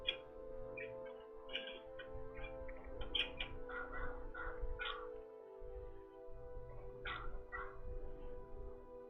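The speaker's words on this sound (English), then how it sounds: "You hear my dog barking?" A dog barks late at night in a series of irregular yips and barks, fairly faint and distant-sounding over a low hum, with several quick bursts spread across the span.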